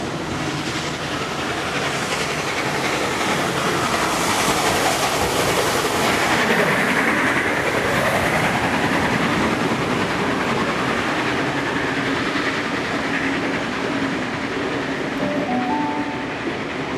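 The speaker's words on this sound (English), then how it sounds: "6029 passes by with its last train for the day to Hurstville" Heritage steam locomotive 6029 rolls past with its train to Hurstville at the Transport Heritage Expo, a loud, sustained rumble and clatter of wheels and carriages filling the whole stretch, with a faint whistle-like tone near the end.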